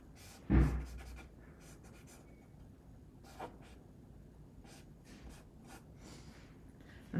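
A pen sketches on paper in a quiet room, with soft scratching strokes in short bursts and pauses, one louder tap near the start, and occasional breathing close by.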